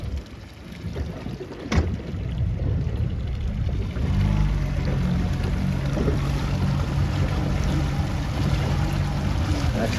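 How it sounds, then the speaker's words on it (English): A strong wind gust rushes across a C420 racing dinghy during a regatta: a steady, close roar of wind and water that swells after the first few seconds and holds, with no voices. "This is the biggest puff of the day."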